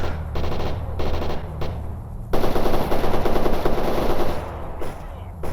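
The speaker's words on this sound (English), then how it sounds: "Gunfight sounds incredible." A gunfight in S.T.A.L.K.E.R. Anomaly, set in the Chernobyl Zone: loud bursts of machine-gun fire crackle in quick succession, with a dense sustained volley in the middle and scattered shots at the end.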